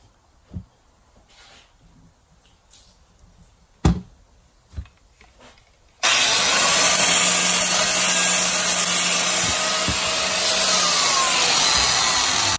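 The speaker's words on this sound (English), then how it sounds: "watching me sand and file" Work on an axe head during a restoration: a few scattered knocks, then a loud, continuous abrasive roar from a power tool that runs steadily to the end.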